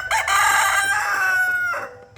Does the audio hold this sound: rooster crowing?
yes